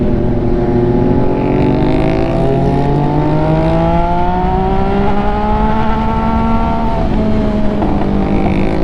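MV Agusta motorcycle engine under way, a loud close drone whose pitch climbs smoothly through a long pull, dips briefly, then rises again, heard alone without talk.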